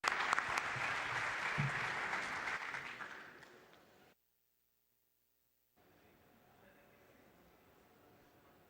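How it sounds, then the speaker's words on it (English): Conference audience applauds panelists after a discussion, a full burst of clapping that fades away over about four seconds, then the sound cuts to silence before a quiet room tone returns. "please join me in applauding the panelists for what I thought was a great discussion"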